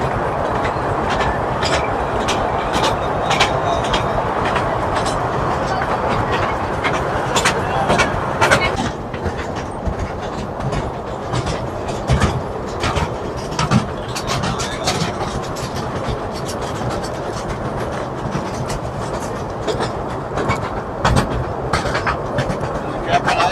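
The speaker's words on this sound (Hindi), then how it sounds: "चलिए बैठते हैं टॉय ट्रेन पे पहली बार।" Small toy train running along the Elephanta Caves pier carries riders, rolling with continuous loud rattling and rhythmic clickety-clack from close by, with people talking over it throughout.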